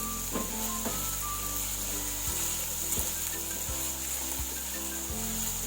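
Chopped bell peppers and other vegetables sizzle steadily in a hot pan while stir-frying chicken vegetable fried rice, with a continuous frying hiss and periodic scraping stirs of the spatula.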